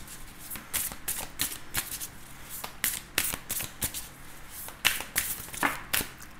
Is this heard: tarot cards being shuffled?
yes